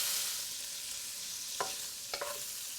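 Cooked pork is scraped out of a pan over a faint sizzle, with two short scraping strokes near the end.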